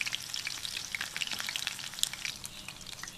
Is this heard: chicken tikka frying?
yes